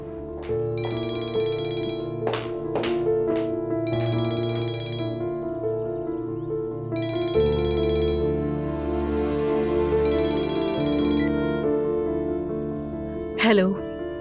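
A telephone rings in repeated electronic bursts with brief gaps, over a steady low background tone; a short sound ends it.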